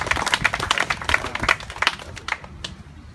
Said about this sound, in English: big round of applause right now for just showing up tonight.